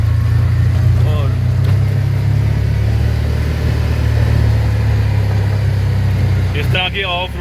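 A dune buggy's engine drones loudly and steadily as it drives off-road through dense forest near Borjomi in Georgia. The engine stays continuous under faint voices, easing slightly near the end.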